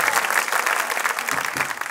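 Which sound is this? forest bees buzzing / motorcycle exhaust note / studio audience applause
studio audience applause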